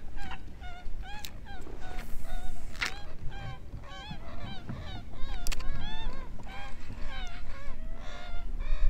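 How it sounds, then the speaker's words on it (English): Waterfowl honk and call repeatedly at close range in the Everglades, a dense, overlapping chorus of nasal squawks running throughout over steady background noise. "those ducks are really close right here"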